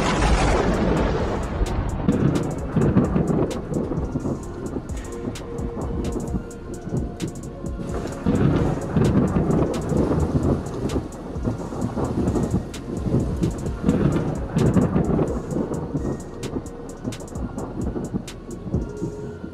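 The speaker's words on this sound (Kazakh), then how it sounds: "Расында да найзағай тоқтаусыз ойнауда." Thunderstorm over Mecca with lightning and rain: continuous heavy rainfall with deep rolling thunder rumbles swelling and fading several times, loud and close, no voices.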